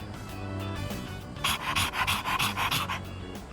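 A dog in the video game Persona 3 Reload pants in quick, rhythmic breathy huffs, close and clear over a soft game music background.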